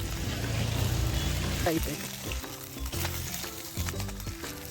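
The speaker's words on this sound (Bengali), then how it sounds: "নুন হলুদ মাখিয়ে একে একে দু খেপে মাছগুলোকে ভেজে তুলে নেব" Fish pieces rubbed with salt and turmeric fry in hot oil, giving a continuous, fairly close sizzle that crackles throughout, with a voice or tonal sound running over it.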